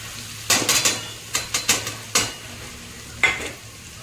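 Boiled eggs are stirred into fried spices in a pan, with a string of sharp spoon-on-pan clacks and scrapes in quick bursts over a low sizzle.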